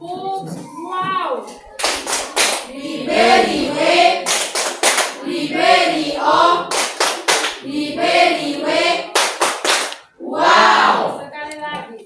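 A classroom of children claps hands in a rhythmic clap game used as an ice breaker. Sharp, loud bursts of group clapping alternate with a teacher and class chanting together, all close and lively.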